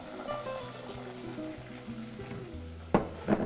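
A tempering of mustard seeds, fennel, curry leaves and onion frying in hot oil gives a soft, steady sizzle, then two sharper stirring clacks near the end.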